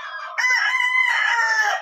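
A rooster crows once, close and loud, a full drawn-out call that rises after a short opening note and holds strongly to the end.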